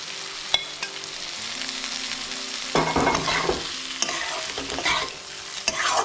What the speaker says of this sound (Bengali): বেগুনটা দেওয়ার পরে এইভাবে মিশিয়ে নেব।